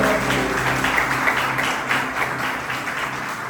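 A church congregation applauds together, a steady wash of clapping that holds at an even level throughout, with faint low tones underneath and no clear voice on top.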